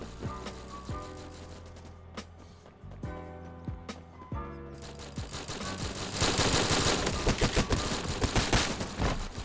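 Gunfire in the Forward Assault video game: a string of sharp single shots and short bursts that builds into dense, rapid, loud automatic fire toward the end.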